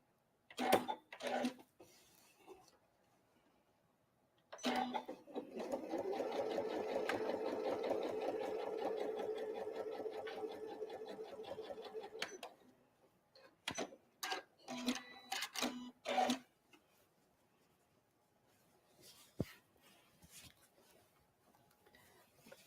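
A sewing machine tacks down apron fabric with a presser foot fitted: short stitching bursts open the passage, then a long steady whirring run, then more brief bursts and clicks, close and clear with no talking.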